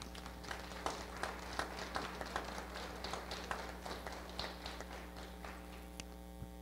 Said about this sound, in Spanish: pido un voto de aplausos